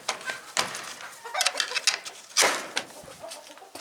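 Chickens and roosters in a coop converted from an old barn, with irregular clucks and short scratchy bursts close by, plus scattered rustling between calls.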